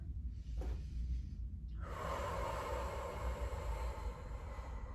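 A person holding a stretch breathes slowly and audibly, a single close inhale and exhale followed by a longer, rushing breath over faint background rumble.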